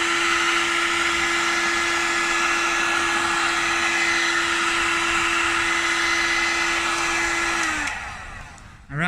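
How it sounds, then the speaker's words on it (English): A heat gun at full temperature blows steadily while heating a glass trophy during print transfer, a loud continuous roaring hiss with a fixed tone that holds for nearly eight seconds before winding down and stopping. "you must make sure your heat gun is at temperature before applying heat to the trophy."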